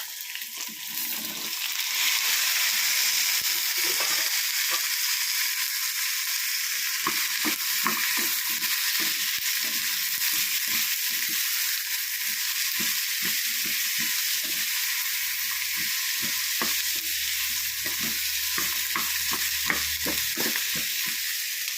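Chopped shallots and curry leaves fry in a pan with a loud, steady sizzle, joined by repeated stirring scrapes and clicks of a spoon against the pan. Throughout, no one speaks.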